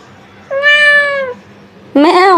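A pet cat meows twice at close range: a long, drawn-out meow, then after a short pause a second, rising one. Both are loud and clear, and no one talks.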